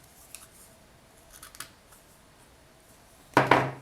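Scissors trim two pieces of sari ribbon, with faint snips early on and then one louder, sharp double cut close by near the end, all in an otherwise quiet room.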